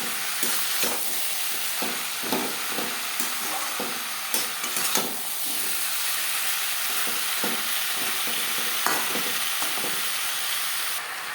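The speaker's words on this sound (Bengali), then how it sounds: "মশলার সাথে আলু বেশ ভালো করে মিক্স করে দেবো" Potatoes stirred with spices in a frying pan for a silver carp fish curry: repeated scraping strokes of a spatula against the pan over a steady sizzle, close and continuous, with no talking.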